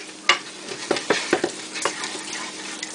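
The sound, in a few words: butter melting and sizzling in a pan for gravy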